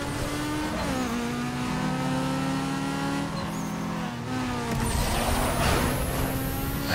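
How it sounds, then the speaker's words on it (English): An American car engine rumbles and revs in the racing video game Need for Speed: Underground 2, shifting pitch through gears with tire noise, loud and continuous among other race cars. "I heard a rumble of a certain America car."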